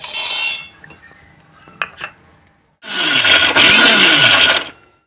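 Roasted peanuts are crushed in a kitchen mixer grinder jar: after a few faint clinks and scrapes, a loud, close whirring grind runs steadily for about two seconds, then stops.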